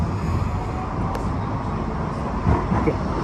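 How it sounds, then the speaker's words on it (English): A Blackpool tram passes by on the street, a steady low rumble and rolling rail noise with a few clanks, at mid distance and fairly loud throughout. "Oh, another tram going past."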